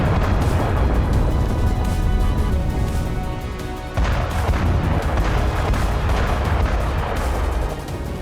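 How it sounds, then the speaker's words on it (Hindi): Missile strikes and explosions rock Kyiv, a dense, continuous roar of booming blasts and crashing debris that stays loud throughout, with a brief dip near the middle before the rumble resumes. "पुतिन कीव को कुछ इस तरह से तबाह कर रहे थे।"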